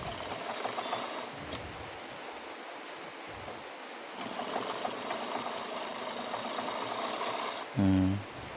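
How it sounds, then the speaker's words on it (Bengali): A sewing machine stitches a garment piece in a steady, continuous mechanical whir, with brief pauses and a louder burst near the end, no talking. "এখন এই পাটটা উপরে 3টা সেলাই মেরে দেব।"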